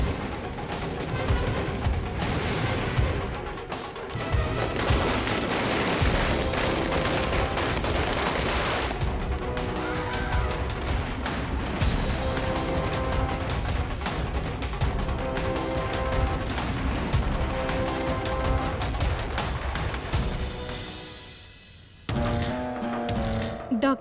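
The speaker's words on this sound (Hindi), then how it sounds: "पटाखे फोड़ो" Firecrackers burst in celebration of an election win, a dense, loud rapid crackle of pops lasting many seconds, then briefly dropping off near the end.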